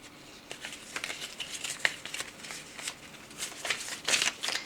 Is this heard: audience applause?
no